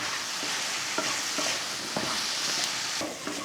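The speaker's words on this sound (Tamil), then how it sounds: "அந்த சிக்கனை சேர்த்துருவோம் கூடவே மல்லித்தலையும் சேர்த்து விடுவோம் சேர்த்துட்டு நல்லா கலந்துடலாம்" Fried chicken majestic with coriander leaves sizzles steadily in a pan while a spatula stirs and scrapes it in repeated strokes, close and continuous with no talking.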